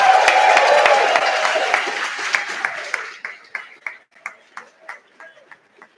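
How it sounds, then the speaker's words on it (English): Audience applause at a rocket launch competition's closing ceremony, a dense crowd clapping that thins after three seconds into scattered single claps, near and fairly loud. "Can I get a round of applause for the live stream team?"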